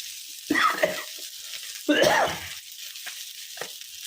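Green chili paste fries with ivy gourd in a pan, a soft sizzle under two louder bursts of stirring and scraping, followed by a few lighter knocks of the utensil, close and with no talking.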